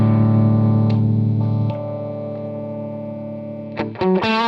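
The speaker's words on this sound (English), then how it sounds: "This would be the way that cap pickup would sound when having that selection there" Fender Telecaster electric guitar with a fifties-style neck, played on the pickup selection that uses a big capacitor: a loud held chord rings out and slowly decays, then a few quick picked notes and a fresh strum come near the end, with no other sound.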